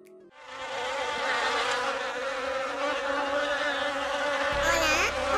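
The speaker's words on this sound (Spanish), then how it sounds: "Es que hay un zumbido por aquí." An insect buzzes loudly and steadily close by, droning without a break for several seconds, with a short voice near the end.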